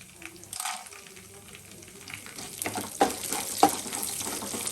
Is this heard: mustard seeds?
yes